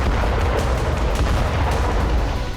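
Wartime explosions and artillery fire hit Ukrainian cities such as Lviv. The result is a loud, unbroken roar of booming blasts and rumbling, with no pause throughout.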